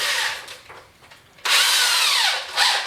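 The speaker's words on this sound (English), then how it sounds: "So I'm going to drill a 1/4 inch" A power drill whirs briefly and faintly, pauses, then bites in loudly, whining steadily as it bores a 1/4 inch pilot hole in wood for lag bolts, close to the listener.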